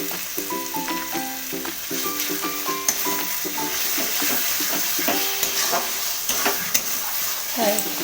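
Chicken masala spices with turmeric, dry chili and Kashmiri red chili sizzling in a pan while being stirred, steady frying hiss with scraping stir strokes close by, faint background tones.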